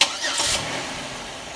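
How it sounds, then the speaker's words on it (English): A 2009 Buick LaCrosse engine cranks and catches, a brief burst of starter whir settling quickly into a steady, close idle. "then you get in the vehicle and you start it and you run it for 10 to 15 minutes"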